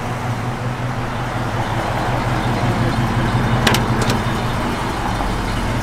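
A 1970 AMC Javelin SST drives down the road with a steady, loud low engine rumble and road noise from inside the car, unbroken throughout, with a couple of faint brief ticks partway through.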